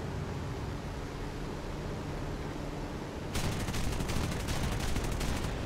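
Aircraft .50 cal machine guns and a 37 mm cannon fire together in War Thunder, heard as a steady roar of wind noise that turns into a dense, rapid, continuous burst of gunfire lasting a couple of seconds.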